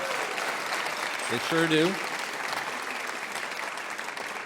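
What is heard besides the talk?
audience applause for the WoodSongs crew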